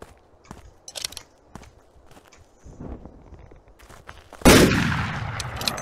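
Gunfire in the horror hunting game Skinwalker Hunt: soft footstep-like steps and thumps, then one loud, sharp gunshot near the end that leaves a long ringing tail.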